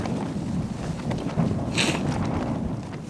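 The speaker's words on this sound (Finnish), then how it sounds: "Tuntuu vähän niinku se edelleen tuulis." Steady wind in the Reisadalen valley of northern Norway rushes and buffets the microphone throughout, a constant low roar with a brief brighter gust in the middle.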